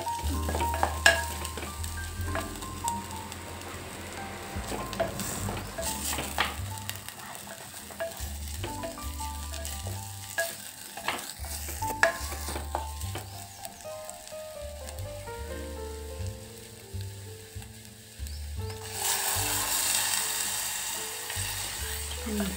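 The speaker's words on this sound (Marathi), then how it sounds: "परतून घ्यायचं" Green mung bean curry is stirred and sautéed in a pan, with a continuous sizzle and repeated scraping strokes of the spoon, loud and close throughout.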